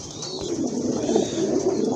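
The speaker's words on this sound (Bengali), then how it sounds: "খুবই সুন্দর এক জোড়া গড়রা কবুতর দেখতে পাচ্ছেন হোয়াইট অ্যান্ড ব্ল্যাক কালার" A pair of white and black Garra pigeons coo continuously at close range, a warm, rolling murmur filling the whole stretch with no talk over it.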